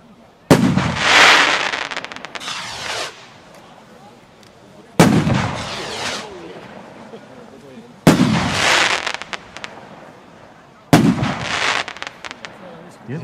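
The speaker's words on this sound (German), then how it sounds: "unsere Sternschnuppenraketen, 80 Gramm F3." Four 80-gram F3 shooting star firework rockets launch one after another, each a sharp whooshing burst followed by crackling and fizzing that fades before the next.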